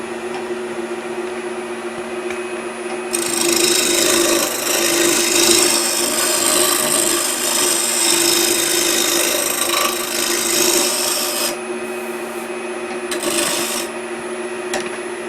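A thin cut on a wood lathe with the bevel rubbing makes a continuous hissing scrape that lasts about eight seconds. A steady mechanical hum runs underneath, and the scrape returns briefly near the end.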